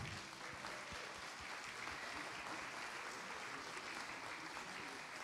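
Audience applause at a church adventurers' club investiture ceremony, a steady wash of many hands clapping that holds evenly for the whole stretch, moderately faint and without talk over it.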